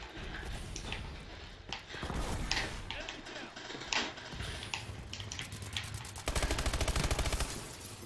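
A fully automatic shotgun fires in a video game, with bursts of sharp, punchy blasts and a rapid volley near the end, loud and close, mixed with other game noises and a player talking.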